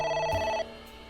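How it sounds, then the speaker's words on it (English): A telephone rings once in the AI: The Somnium Files video game, a bright electronic tone that holds for about half a second and then cuts off, leaving a quiet synth backdrop. "A phone. Should I pick it up?"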